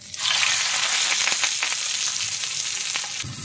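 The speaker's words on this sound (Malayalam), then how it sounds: "നമുക്കതിലേക്ക് നമ്മൾ ഈ വാഴയിലയിൽ കെട്ടി വെച്ച നമ്മുടെ മീൻ ചേർത്ത് കൊടുക്കാം." Fish wrapped in banana leaf hits hot oil on a tawa and bursts into a loud, steady sizzle that keeps going, with a few faint crackles as it settles.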